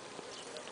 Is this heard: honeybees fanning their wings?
yes